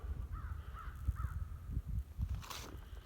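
Several harsh crow caws from birds on a dead calf in a cattle pasture ring out at a distance, spaced irregularly over low rumbling wind noise, with no talking.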